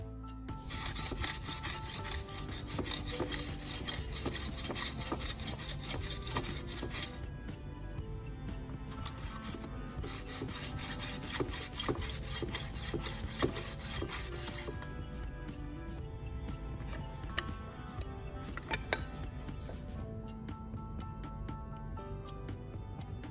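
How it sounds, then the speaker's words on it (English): A sharpening stone is run along both sides of a hand saw blade: a continuous, close, gritty rasping and rubbing made of repeated strokes, with no talking. "I'll take a sharpening stone and gently run it along both sides of the blade"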